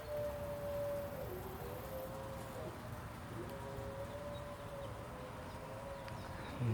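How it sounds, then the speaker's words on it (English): A siren wails faintly in the distance, a thin steady tone gently rising and falling over a quiet outdoor background in a summer garden. "Those dogs sure don't like sirens."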